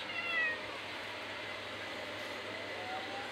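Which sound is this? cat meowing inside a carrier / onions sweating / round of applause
cat meowing inside a carrier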